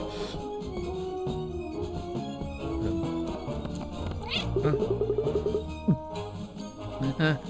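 Cartoonish cat meows recur in the video game Cat Quest, sounding over a layered fantasy music score, with a few louder meows standing out toward the end.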